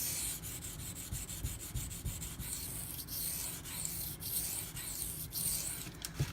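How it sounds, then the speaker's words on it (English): A Benchmade Mini Ritter Grip knife blade has its bevel ground at roughly 15 to 18 degrees, giving a continuous close, soft abrasive rasp with repeated scraping strokes and small ticks. "Grinding it at 15 degrees, give or take, maybe 18."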